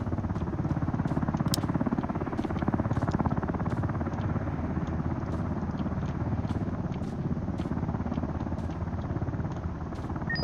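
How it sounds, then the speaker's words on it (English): A video game helicopter's rotor thumps steadily in a dense, continuous drone, loud and close, with faint clicks scattered over it. "This helicopter will only stay for a short period of time."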